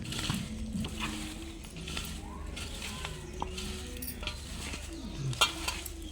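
Soya chunks get mixed with turmeric and spices in a bowl, a soft continuous stirring and scraping texture with faint clinks, close by and moderately quiet, with occasional bird calls in the background.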